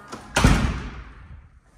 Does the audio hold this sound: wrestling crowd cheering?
no